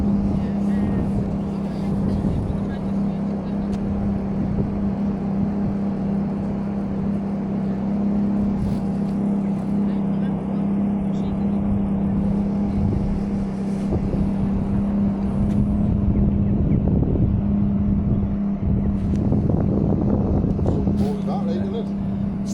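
Ferrari F430 V8 engine heard from inside the car, a loud continuous low drone that rises and roughens in bursts of acceleration, with people talking over it.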